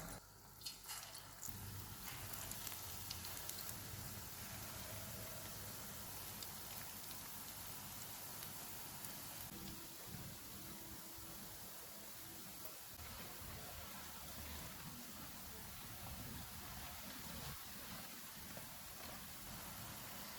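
Moong dal mangochiyan fry in hot oil over a low-to-medium flame, giving a steady, soft, continuous sizzle and crackle that stays even throughout with no talking.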